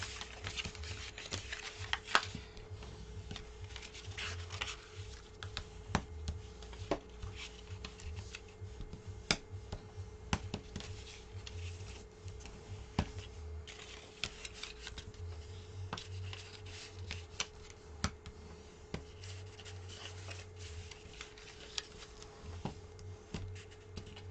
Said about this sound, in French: je rappuie bien tous mes plis